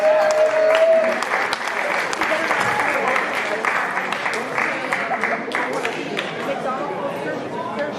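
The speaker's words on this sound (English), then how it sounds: "Give yourselves a round of applause." Audience at a university athletic awards ceremony applauding themselves; a steady wash of clapping with cheers and crowd chatter mixed in, a brief whistle near the start.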